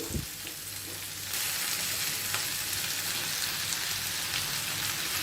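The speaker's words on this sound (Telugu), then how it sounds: "ఉల్లిపాయ ముక్కలు ఈ విధంగా వేగాయి ఇప్పుడు ఇందులో ఈ పాలకూరని వేసేసుకుందాము" Chopped onions sizzle in a pan, then the sound jumps to a louder, steady hiss and crackle as spinach goes in. The frying is close and continuous with no talk over it.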